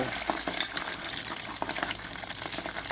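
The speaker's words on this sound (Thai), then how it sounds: "ทอดไฟแบบนี้ค่ะอ่อน ๆใจเย็นๆไปเรื่อยๆค่ะ ใช้เวลาทอดหมูกรอบใส่เวลาเป็นชั่วโมงเลยค่ะเพื่อนๆ" Pork belly deep-fries slowly in oil over low heat for crispy pork, giving a close, continuous crackling sizzle with scattered pops and occasional stirring clinks.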